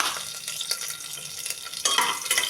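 Curry leaves and chopped green chillies sizzle loudly in hot oil while being stirred for a moong dal tempering, a steady bright crackle that flares up near the end, with no talking.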